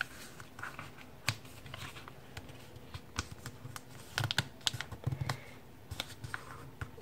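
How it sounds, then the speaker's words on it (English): Paper being creased and folded into a paper airplane gives soft, irregular crinkles and light taps, close by and quiet, with no talking. "Make a mark and fold it up."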